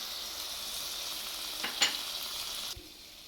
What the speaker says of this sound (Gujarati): ચાલો આપણે એમાં દહીં એડ કરી દઈશું